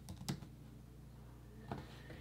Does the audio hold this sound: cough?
no